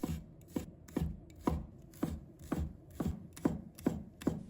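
A knife slices shallots on a cutting board with about a dozen crisp, evenly spaced chops close by, each a sharp thunk on the board with brief quiet gaps between.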